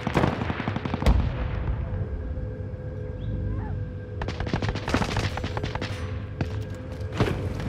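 Video-game gunfire crackles in rapid bursts and single shots, some sharp and close, others distant, with a brief lull before dense volleys resume.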